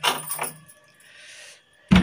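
A door closes with a solid thump at the end, after keys jangle in a short rattling burst and a brief metallic slide, all close and fairly quiet indoors.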